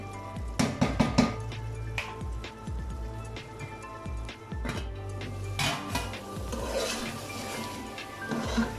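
Chicken masala for biryani being stir-fried in a pot, with a spoon scraping and clanking against the metal in irregular bursts, sizzling under the strokes, close and moderately loud with no talk.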